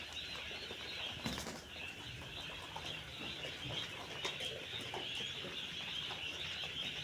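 Egg-laying quail birds in their pen at night, their wings flapping in soft bursts and faint clucking over a steady high insect-like hum.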